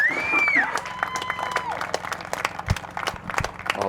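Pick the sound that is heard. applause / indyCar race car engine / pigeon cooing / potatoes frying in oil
applause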